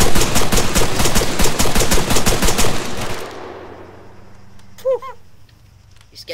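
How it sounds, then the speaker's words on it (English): Rapid automatic gunfire from the Arma III video game, fired at a vehicle's tires, rattles loudly and continuously for about three seconds, then cuts off, leaving quiet ambience and a few brief electronic tones. "Shoot the tires!"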